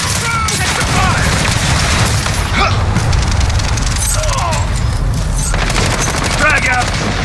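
Combat in the game Rust, with bursts of rapid gunfire and a grenade blast booming amid a constant loud roar of battle, while voices call out over the noise.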